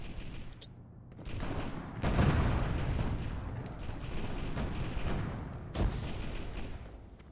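A frag grenade and gunfire in a chaotic multiplayer war game: a dense, sustained roar of explosions and overlapping shots swells and holds at mid-distance, punctuated by a sharper blast near the end.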